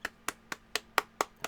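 One pair of hands claps seven times at an even, unhurried pace, each clap sharp, dry and close, with quiet gaps between.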